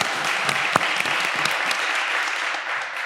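An audience at a community planning event applauds, a steady wash of many hands clapping that holds evenly for several seconds before easing slightly at the end.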